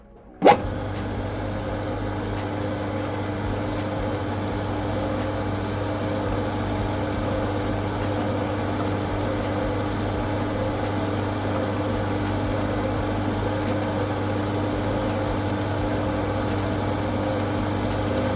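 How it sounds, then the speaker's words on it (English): A lathe starts with a sharp click and then runs with a steady, even hum, used for polishing with diamond paste toward a mirror finish. "then I'm going to start my lathe"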